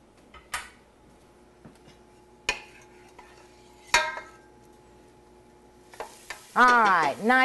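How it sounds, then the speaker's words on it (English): Meat starting to sauté in a hot pan, a soft sizzle under a few sharp clinks of a spoon against cookware, ending in a brief burst of louder sizzling and scraping. "I want this to start sauteing"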